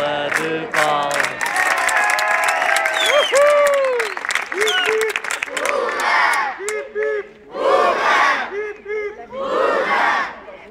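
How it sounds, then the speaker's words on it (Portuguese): A festive birthday gathering cheers for Francisco, loud shouting and chanting voices swelling and breaking off in bursts, with clapping beneath the crowd's cries. "Francisco, uma salva de palmas."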